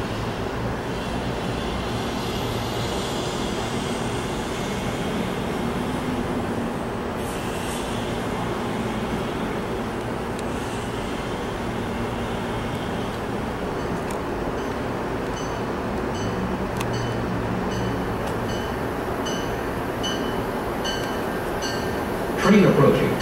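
A train pulls into the platform at Route 128 station, served by MBTA and Amtrak, making a steady, loud, broad rumble that runs throughout, with a public-address voice speaking over it.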